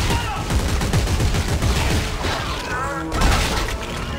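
Gunfire in the sci-fi horror shooter Dead Space 3 during co-op play: loud, dense bursts of shots and heavy impacts rattle continuously against a noisy game soundscape, with a voice briefly audible under the din.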